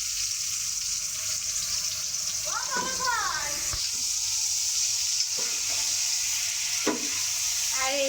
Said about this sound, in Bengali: এগুলো এখন আমি হচ্ছে একটু তেলে ভেজে নিচ্ছি